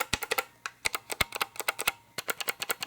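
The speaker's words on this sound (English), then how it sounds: "it has a very satisfying clicking sound when you're pressing down, something like blue switches perhaps" Mechanical switch keys on an aluminum-alloy desktop controller click crisply and close, a quick irregular run of sharp taps in a quiet room.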